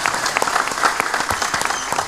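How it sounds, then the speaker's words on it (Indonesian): An audience applauds a wayang shadow puppeteer, with individual claps clearly audible in a lively, irregular burst of clapping under a brief murmur. "Kula nyuwun para pamriksa sedaya tepuk tangan kangge dalang luar biasa."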